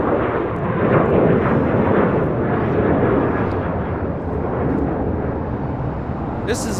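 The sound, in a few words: Aeromexico Boeing 737-800 taking off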